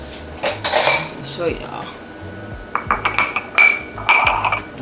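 Small soup bowls clink and knock against each other and the counter in several quick bursts while French onion beef short rib soup is being served, with a brief spoken remark.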